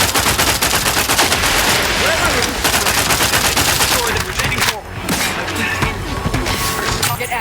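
Rapid automatic gunfire in The Outer Worlds 2, loud dense bursts of shots hammering almost nonstop, briefly thinning near the middle before resuming, with a voice speaking under the shooting.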